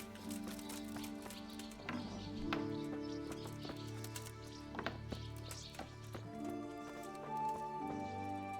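Horse hooves clip-clopping in Kingdom Come: Deliverance, a steady run of sharp, evenly spaced clops over a bed of sustained game music, with faint birdsong and no talk.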